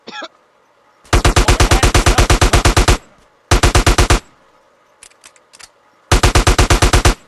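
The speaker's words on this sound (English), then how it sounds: "You want me to shoot you again?" Loud automatic gunfire from Grand Theft Auto: San Andreas The Definitive Edition comes in three sustained rapid bursts separated by short pauses, with a few scattered single shots between them.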